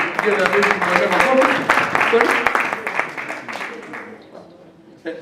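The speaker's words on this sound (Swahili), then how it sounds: "tumpigie makofi" Applause at the launch of a Kenyan alumni association's eastern region chapter, a dense crowd clapping steadily for about four seconds before thinning out, with voices in the room underneath.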